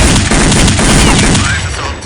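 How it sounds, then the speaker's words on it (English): Gunfire in the PC game Counter-Strike: Condition Zero Deleted Scenes, a loud, dense rattle of shots and blasts filling the whole moment, with a voice calling out faintly underneath. "Sir, we are taking fire from the tunnel!"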